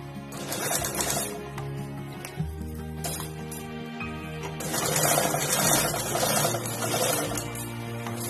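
A sewing machine runs stitches along a fabric party bag, a close, steady mechanical whirr in bursts with a brief pause partway through, nothing else competing.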